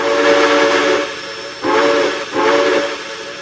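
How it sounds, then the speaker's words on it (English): Whistle of a J3 Hudson steam locomotive in the Trainz railway simulator: one long, loud hissing blast followed by two shorter toots with brief gaps between them. "I haven't actually tested the whistle on this thing."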